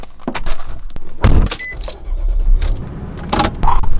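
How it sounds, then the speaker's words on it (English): Truck door handling and keys jangling, then a vehicle engine starting and running at close range before a trip to a northern Arizona lake, with short bursts of clunks and rustle and no talk. "let's hop into the truck and let's get going"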